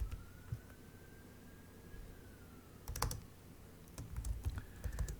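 Typing on a computer keyboard in a quiet indoor room, with scattered soft key clicks that build into a quicker burst of keystrokes toward the end, faint and close, with no talking.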